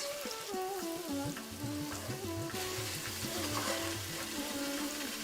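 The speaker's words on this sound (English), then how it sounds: "Where you can put it directly onto the oil so that it gets fried." Steady, dense sizzling of food frying in hot oil, loud and continuous, with faint tonal music running underneath.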